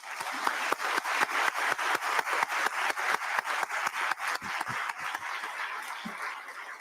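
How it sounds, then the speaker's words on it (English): An audience at the closing session of a United Nations civil society conference in Nairobi applauds the planning committee with steady, rhythmic clapping that holds at an even level throughout. "May we please give them a round of applause."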